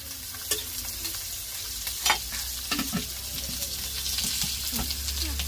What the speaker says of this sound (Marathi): थोडस तेल टाका, अर्धी पळी, मसाला चिकटतोय म्हणून.